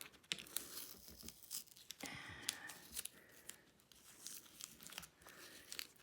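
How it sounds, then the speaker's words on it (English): Tape being peeled off a fabric zip bag project, heard as a series of ripping, crinkling tears at moderate loudness with no talking. "we are gonna take off this tape"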